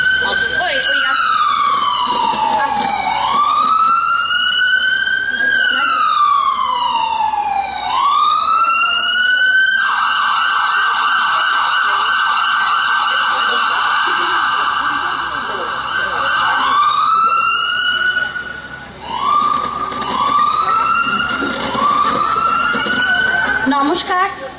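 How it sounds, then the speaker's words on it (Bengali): An ambulance siren wails loudly and close, sweeping up and down in long rising and falling cycles, then switching to a faster steady warble before returning to slow wails, in a staged drama scene. "অ্যাম্বুলেন্স আসছে"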